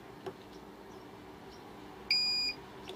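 An ISO-TECH IPS 3303D bench power supply gives a single short electronic beep, a clean tonal bleep of about half a second over a quiet room background.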